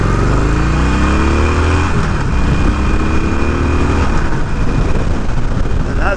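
A 2020 Harley-Davidson Iron 1200 motorcycle engine revs loud and close, holding a thick, steady roar for about six seconds with rising and falling rev sweeps.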